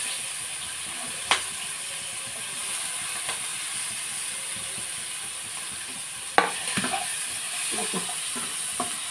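Green chili pieces and onions fry in a pan for a capsicum egg curry, giving a steady, close, broadband sizzle with a few sharp pops and stirring clinks, and no talk.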